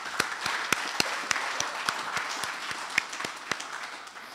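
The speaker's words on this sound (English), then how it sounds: "Let's give a big round of applause for this." Audience applause at a university public lecture event, a fairly quiet, sparse patter of clapping with distinct individual claps standing out irregularly over a soft continuous background.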